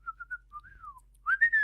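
A person whistles alone: a few short chirpy notes, then a gliding falling phrase, and after a pause a louder rising, sustained tone, close and clear over near silence.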